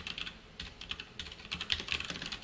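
Quick irregular clicking of keys being typed on a computer keyboard, fairly quiet and close, with no voices.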